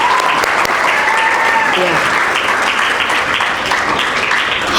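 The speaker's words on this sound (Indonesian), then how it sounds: "Kita beri aplaus dulu." Sustained applause from an audience at an elementary school graduation ceremony at SD Kristen Elim Makassar, loud and steady throughout, with a brief spoken word and a voice over the crowd.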